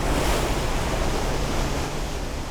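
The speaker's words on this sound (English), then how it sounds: "that is the spray that is being thrown up by the Murchison Falls" Churning water and thrown-up spray from Murchison Falls on the Nile make a loud, unbroken roar close by, like heavy surf, with no voices.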